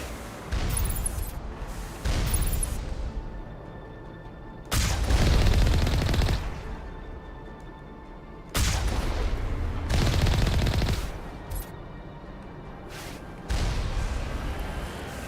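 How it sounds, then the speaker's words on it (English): Enemy gunfire in the snowy terrain of the video game Mass Effect, loud bursts of shots in several clusters separated by quieter stretches, with a steady background hum between the volleys. "someone's taking pot shots at us"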